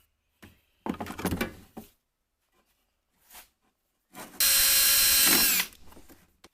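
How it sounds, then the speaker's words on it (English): A power drill bores a 3/8-inch hole through car interior trim on a GM vehicle, in short bursts followed by one loud, sustained whine of about a second and a half, close by with no talking. "what comes next is drilling a 3/8 hole right here"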